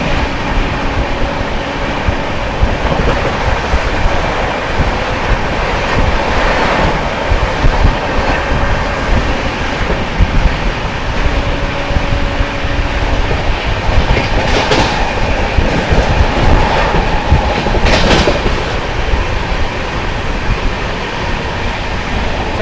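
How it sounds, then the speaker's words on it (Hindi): The 12566 New Delhi–Darbhanga Bihar Sampark Kranti Express rolls through Shikohabad Junction, with loud, steady clickety-clack of wheels over rail joints and a rumbling carriage roar heard from on board, continuing throughout. "अपनी ट्रेन जो है स्किप करने जा रही है शिकोहाबाद जंक्शन"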